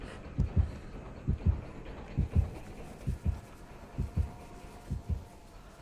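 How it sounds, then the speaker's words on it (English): In the Dead by Daylight video game, a heartbeat warns that the killer is nearby. Deep, muffled thumps come in steady lub-dub pairs, about ten of them, over a faint hum with no talking. "that heartbeat indicates that he's around"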